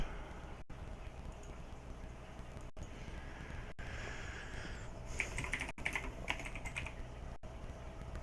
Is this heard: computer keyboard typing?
yes